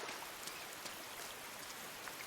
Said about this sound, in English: There's so much fog, mist, filled with rain.